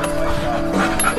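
A hard-biting dog in bite training, giving short yips and whimpering barks amid noisy background, close and loud.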